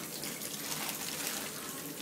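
Water runs steadily from a tap while a pheasant is cleaned, a continuous close splashing gush that holds at an even volume throughout, with no talking over it.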